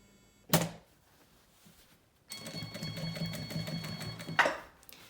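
A sewing machine stitches non-stretch fabric through a thick section. A click comes first, then a steady, close, quiet run of rapid stitching hum.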